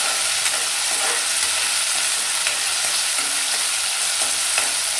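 Peeled hyacinth beans fry and sizzle in a pan for avarekalu uppittu, a steady bright crackle with occasional stirring scrapes, close and continuous.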